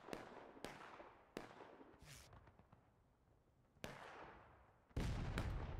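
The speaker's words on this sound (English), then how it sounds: "CSA cannon shot. Overcooked slightly, but getting closer." Cannon fire in the American Civil War video game War of Rights, sharp booming reports at irregular intervals, some distant and some closer, each trailing off in a rumbling decay, fairly quiet overall.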